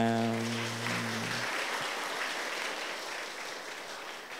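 Audience applause in a hall during a Buddhist dharma talk at a youth retreat, a steady wash of many hands clapping that fades slowly, with a sung tone ending in the opening moments.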